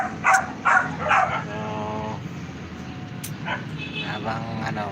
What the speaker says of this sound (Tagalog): May maingay pang aso, kapit bahay.